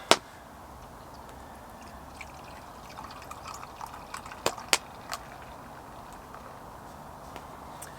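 Pedigree Amber Ale beer pours outdoors at a woodland campsite, a soft, quiet trickle with a few faint clinks and taps over low background hiss.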